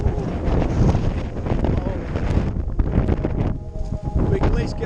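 Strong wind buffets the microphone in loud, rough gusts that rise and fall near a waterfall in Gardens of Stone, New South Wales, Australia, with a voice speaking partly buried beneath the roar.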